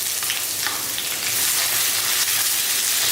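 Onion with dry red chillies sautés in hot oil, giving a bright, dense, continuous sizzle up close with faint crackles and no voices.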